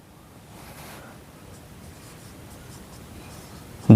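Chalk or marker scratching across a classroom board in a short, faint stretch of scraping strokes, ending in a sudden loud knock.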